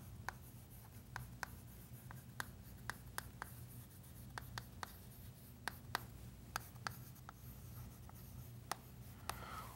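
Chalk or marker taps and scratches on a board while a math lesson is written out, a quiet irregular series of short sharp strokes over faint room hum, with no talking.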